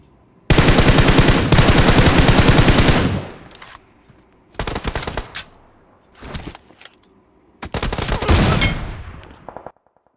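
Automatic gunfire in the mobile shooter BGMI: a long sustained burst at close range, then several shorter bursts separated by brief gaps, loud and sharp with no talk over it.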